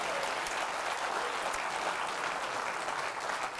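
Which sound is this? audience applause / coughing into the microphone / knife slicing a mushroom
audience applause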